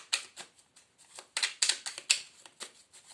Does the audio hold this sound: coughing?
no